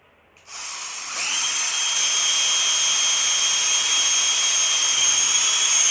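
An electric drill starts up and holds a steady, high-pitched whine, running continuously and loud close by.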